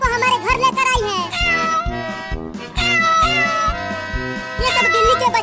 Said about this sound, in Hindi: वो देखो, बिल्ली अपने सभी बच्चों को हमारे घर लेकर आई है।